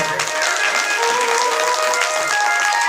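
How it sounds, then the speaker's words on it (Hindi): Applause from the audience at a Bhagavat katha religious gathering in Modinagar, a dense steady patter of clapping hands that fills the whole stretch at an even, fairly loud level. "एक बार जोरदार तालियों से अभिवादन।"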